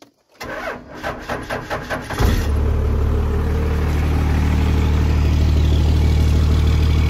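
A swapped 12-valve diesel engine cranks with a rapid series of starter pulses, catches after about two seconds and settles into a steady, loud, rumbling idle close by.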